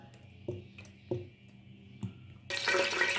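Cooking oil is poured into a pot, a few soft knocks and clinks leading into a loud rushing pour that fills the final second, close by.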